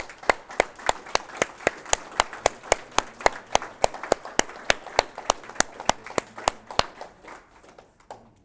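A small crowd at an 80th anniversary gathering claps in acknowledgement, steady sharp hand claps in an even rhythm, fairly close and moderately loud, thinning out toward the end.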